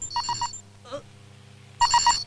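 A mobile phone rings in a Hindi-dubbed horror film scene, with a quick burst of three trilling rings, a short pause with a faint rustle, then another three-ring burst, moderately loud over a low steady hum.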